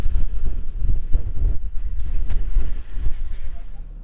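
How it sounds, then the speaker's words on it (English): Heavy wind buffets the microphone in loud, rumbling gusts atop Elachbutting Rock in Western Australia's Wheatbelt, a constant roar that swells and dips throughout. "it is as windy as hell up here"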